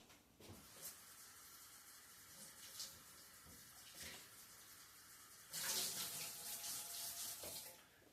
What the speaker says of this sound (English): So if you want to take a second to wash your mushrooms, because these are picked fresh.